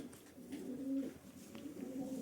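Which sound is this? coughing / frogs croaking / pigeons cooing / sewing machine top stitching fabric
pigeons cooing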